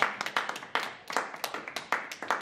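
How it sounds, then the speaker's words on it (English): Irregular hand clapping from a small group after playing games together, a quick burst of sharp claps close by with no talk over it. "Round of applause."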